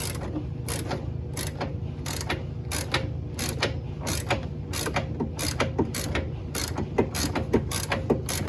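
A ratchet works loose the upper control arm (torque strut) bolt on a Mercedes C230, turning the nut side with a steady run of sharp, close clicks over a constant mechanical hum.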